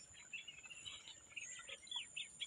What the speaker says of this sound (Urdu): ہلکی سی آوازیں پرندوں کی،